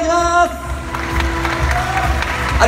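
Crowd applause at an award ceremony for K-1 fighters and boat racers receiving medals, scattered clapping and crowd noise mixed with a sustained announcer's tone and bits of speech nearby.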